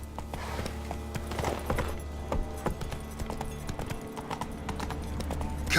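Roach, the horse in The Witcher 3: Blood and Wine, gallops with rapid rhythmic hoofbeats over a low steady ambient hum, close and continuous.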